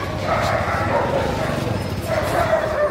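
A dog at an outdoor Friday market gives short woofs and whining yelps in two close bursts. Crowd noise and voices sound faintly behind it.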